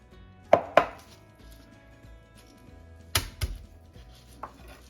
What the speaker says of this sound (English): Simply give it a chop or two.